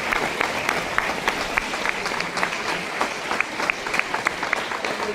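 A church congregation claps in steady rhythmic applause, sharp regular hand claps repeating at a quick even pace, with faint voices beneath.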